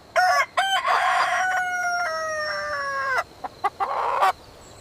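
A rooster crows a full cock-a-doodle-doo, loud and close, opening with short clipped notes and ending in a long sustained note, then a few sharp clucks and a brief final squawk.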